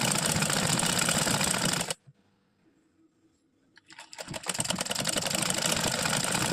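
A sewing machine runs fast and loud as it stitches along one side of a piece of cloth, stops abruptly for about two seconds, then starts up and runs again.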